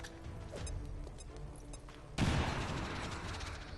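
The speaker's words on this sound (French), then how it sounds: "Est-ce qu'on a une petite grenade à leur mettre dans la vue?" A grenade blast in the strategy game XCOM 2 lands as one sudden loud boom, followed by a long rumbling crackle of debris under steady game ambience and music.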